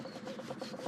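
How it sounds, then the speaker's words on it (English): Steady rubbing as a cloth cleans a dirty chrome part from a 70-year-old National Cycle motorcycle windshield; a close, continuous scrubbing rasp with slight rhythmic pulses. "We have this piece here that's very dirty. I'm gonna clean it completely."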